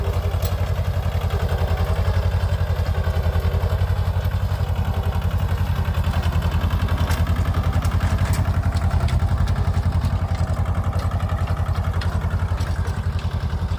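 A mini tractor engine runs steadily at close range, a loud continuous chugging drone with a rapid mechanical clatter and no pauses, no voices over it.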